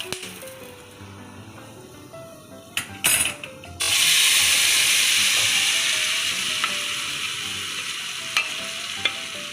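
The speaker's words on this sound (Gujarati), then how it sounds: "જુઓ જો કાળા મરી પાકે છે" Hot oil sizzles loudly as spices including black peppercorns temper, beginning after some clinks and scraping, then a steady hiss that slowly fades, with occasional metallic taps.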